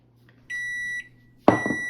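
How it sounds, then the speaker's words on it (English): A microwave oven heating mochi dough gives a steady tone for about half a second, goes quiet, then a sharp clunk of the door or button is followed by another sustained electronic beep. "put it in the microwave for 2 minutes"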